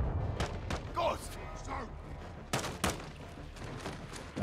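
Gunfire rattles in the Modern Warfare 2 campaign, with sharp shots and bursts scattered across the moment, mixed with mechanical clatter and faint game voices in the background.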